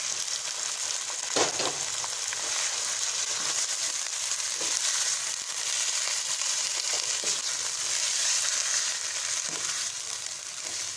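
One kilo of mutton fries in a pot with browned ginger and garlic, a dense, even sizzle running throughout with occasional soft stirring knocks and no talking.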